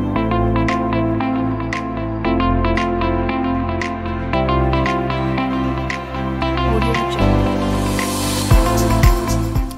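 Stock music track playing loud and full, a steady beat-driven arrangement with bass, bright percussion and layered synths changing chords every couple of seconds, with a swelling cymbal wash near the end.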